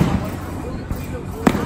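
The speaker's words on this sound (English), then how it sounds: "there are fireworks going off in the distance" Distant fireworks go off in two dull, muffled pops about half a second apart over a steady low background hum, with faint voices in the mix.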